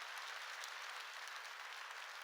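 A Korean church congregation claps during a sermon, a faint, even patter of many hands that stays level and unbroken, heard from a distance with no voices.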